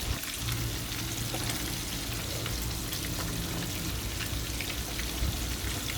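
King mackerel fish sizzles in a pan of hot oil, a dense, even crackle of frying that carries on steadily without pause and with no voices.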